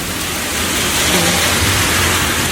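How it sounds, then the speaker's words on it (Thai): Very heavy rain in Cologne roars in a dense, loud, unbroken downpour, swelling slightly midway, with no voices. "เพิ่งจะเคยเห็นฝนตกหนักมากขนาดนี้นะที่เมืองโคโลน"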